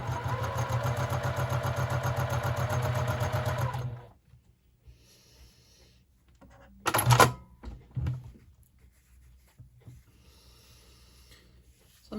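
Sewing machine stitching jelly roll quilt strips together, a steady loud mechanical whir that runs continuously for about four seconds and then stops, followed by quiet handling and a few soft thumps.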